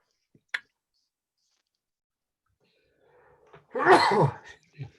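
A single sharp sneeze bursts out of near silence after a faint click, followed by a brief breathy sound.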